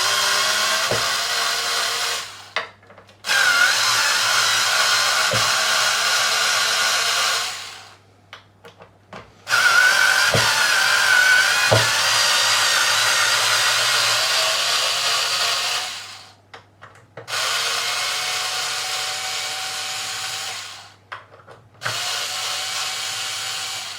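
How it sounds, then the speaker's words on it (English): A battery-operated Von House electric screwdriver backs bolts out of a Squier Classic Vibe Telecaster, whirring in several steady runs of a few seconds each with short clicks and pauses between, close up and with no talk. "electric screwdriver, what a piece of kit this is by Von House"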